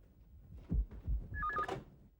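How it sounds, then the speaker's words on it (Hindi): A telephone rings in an indoor scene of a Hindi TV comedy, a short electronic warbling ring heard faintly after a couple of dull thuds. "क्यों, किसका फोन है?"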